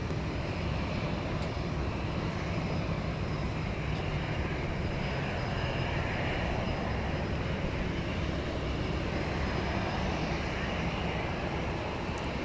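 A Royal Jordanian Boeing 787 Dreamliner departs DFW Airport at night, a broad, steady, distant jet roar that holds evenly throughout without breaks.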